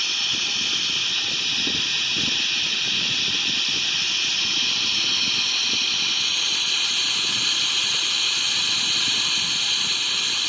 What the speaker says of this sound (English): Extend some speed brakes here